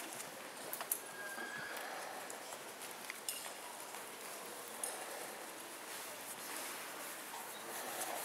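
A horse cantering on the right rein in a riding arena during a dressage test, hoofbeats soft and steady with faint outdoor ambience and a few birds, no talk.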